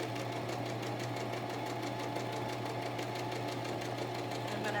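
Sewing machine stitching an envelope pillow cover, working forward and backward to lock the stitch, a quiet steady rapid mechanical chatter with a low motor hum throughout, no talking.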